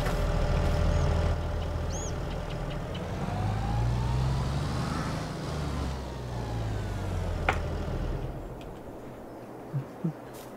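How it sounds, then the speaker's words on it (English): A tractor engine in Farming Simulator 22 drones steadily and loud throughout, its low rumble shifting pitch as it drives, with a couple of small clicks near the end. "hook it up to our tractor"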